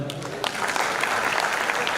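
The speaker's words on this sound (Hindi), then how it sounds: "जोरदार ताली बजाओ।" Steady, full applause from the audience at a Hindi kavi sammelan poetry recital, a dense wash of clapping that stays level and close for the whole moment.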